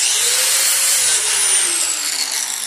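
A power drill grinding into metal with Drill Juice lubricant applied, a steady high-pitched whine and grinding hiss held continuously and loud, no voices.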